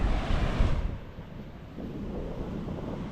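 Sea waves wash in steadily near the shore of the sea en route to Pagudpud, heavy and close at first, then easing into a softer continuous surf with wind buffeting the microphone.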